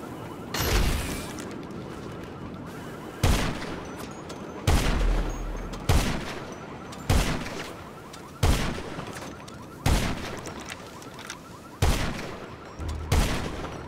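Gunfire from a 1v1 video game shooter match: about ten loud, sharp shots spaced irregularly roughly a second apart, each with a brief decaying tail over steady background game noise.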